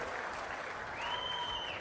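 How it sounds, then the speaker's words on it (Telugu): Crowd at a chief minister's public speech in Narsannapet applauds steadily, a dense wash of clapping throughout, with a brief high tone in the background. "గట్టిగా చప్పట్లు కొట్టి అభినందించండి."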